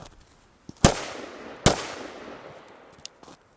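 An AR-15 rifle fires two loud, sharp shots in quick succession, each followed by a ringing outdoor echo, with a fainter pop near the end.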